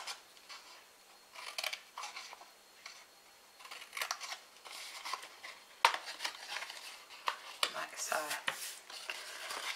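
Scissors snipping notches into scored paper for a Christmas beanie box table favor, with a string of short, close crisp cuts and handling rustles in bursts, and a voice speaking now and then.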